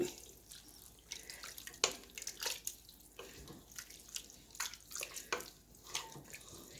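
A wet mixture for cats is stirred in a bowl, giving close, uneven clinks and soft watery sloshes that come in irregular bursts, with no voice.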